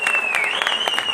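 An audience at a village folk-song stage event bursts into brief, brisk applause, with a sustained high tone running through the clapping.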